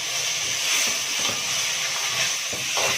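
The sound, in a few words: grated tomatoes added to sizzling fried onions in pan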